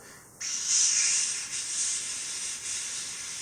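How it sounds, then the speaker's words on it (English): Steak meat hits a grill with a loud, steady sizzle that bursts up suddenly and keeps hissing without pause, close by. "I can hear it sizzling."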